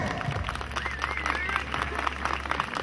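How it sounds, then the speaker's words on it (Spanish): A crowd at a jaripeo applauds a rider, scattered clapping heard from a distance over a steady low hum, with voices and faint whistles mixed in. "Si ustedes quieren que él reciba premio, fuerte el aplauso."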